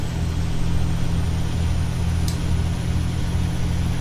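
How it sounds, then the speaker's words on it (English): Kenworth W900L truck engine in American Truck Simulator: a full, deep low rumble holding steady and loud, with a faint high tone above and a brief click partway through. "When you can get an engine that sounds full like this, man."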